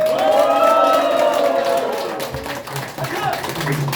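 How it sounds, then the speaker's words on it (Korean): Crowd at a live memorial impersonation singing contest cheers and claps, a loud wash of voices and scattered applause that fades slightly toward the end, with a tonal voice or music riding over it. "이렇게 환호성까지 질러주셔서 대단히 감사합니다"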